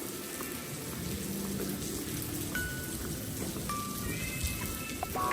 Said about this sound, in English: I thought the rain was stopping then for a minute. It suddenly got harder again.